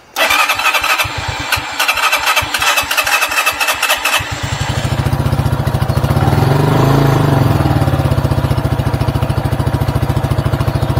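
RPS Condor 150cc Grom clone motorcycle with the choke on, cranking with rapid starter chugs for about four seconds before catching and settling into a loud, steady single-cylinder idle up close.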